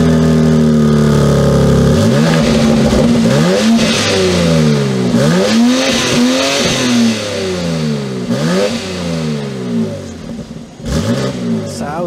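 A 2022 BMW X3 M Competition SUV engine cranks to life with a sharp bark, then is blipped through a series of loud, rising and falling revs close by, settling between bursts.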